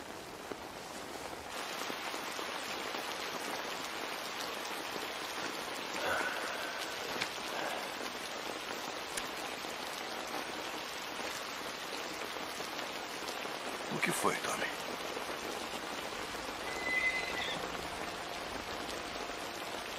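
Steady rain falls outside a tent in a Western film, a constant dense hiss that holds at an even level throughout, with a few brief louder spatters and no voices.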